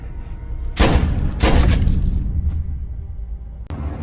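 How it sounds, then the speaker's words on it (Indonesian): Loud gunshots from a film soundtrack: two sharp bursts in quick succession, a lingering ring, then one more shot after a pause. "Karena suara tembakan yang terdengar"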